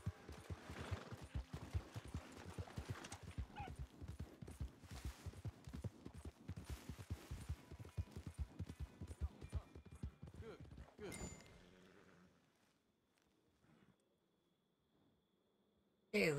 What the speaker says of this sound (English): I'm purposely riding through every bit of water